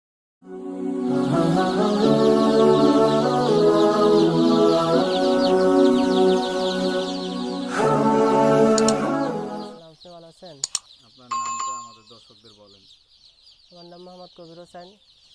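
Many chickens on a poultry farm cluck and chatter loudly together for about ten seconds, then the flock quiets to scattered clucks and short calls.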